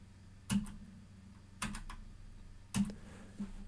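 Three separate keystroke clicks on a computer keyboard, crisp and fairly close, spaced about a second apart, with no talking.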